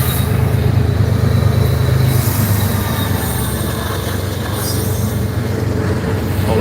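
A freight train with a single distributed power unit rolls past at night in Millbury, Ohio, a steady, loud rumble of wheels and cars that holds throughout.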